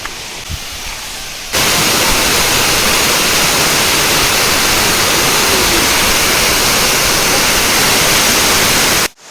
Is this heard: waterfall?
yes